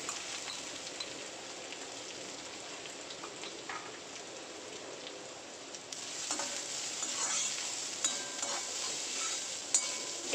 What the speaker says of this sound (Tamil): அந்த நெய்யிலே வந்து தேங்காயும் கொஞ்சம் வறுத்துடலாம்